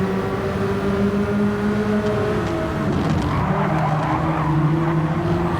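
Race car on the Laguna Seca track running its right side wheels into the dirt, a loud steady engine roar with shifting pitch and a gritty skidding, scrubbing wash over it, no talking.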